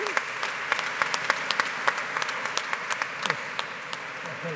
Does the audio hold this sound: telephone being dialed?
no